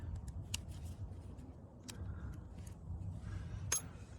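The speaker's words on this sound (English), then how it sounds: "I just got the scissors here." Scissors snipping through small plastic retaining clips during a clutch install on a BMW E92 335i, a few sharp short snips spaced out over a low background hum.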